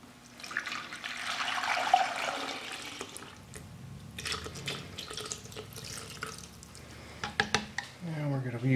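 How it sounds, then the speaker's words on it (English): Stabilizing resin poured over dyed corn cobs in a container, a steady liquid pour and trickle lasting several seconds, with soft handling clatter and a brief voice near the end. "And then we pour in the stabilizing resin."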